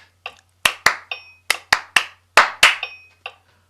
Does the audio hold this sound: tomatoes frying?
no